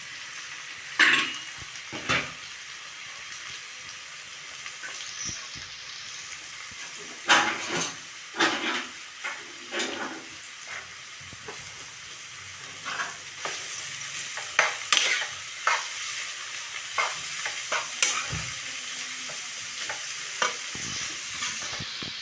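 Chopped onions frying in a pan, a steady soft sizzle broken by irregular scraping and clinking strokes of a spoon stirring against the metal, close and moderately quiet with no talking.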